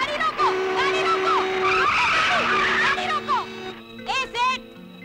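Tires squeal sharply as a car brakes hard to a stop in an action-film street scene. Long, loud screeching pitches bend up and down, with raised voices shouting over it.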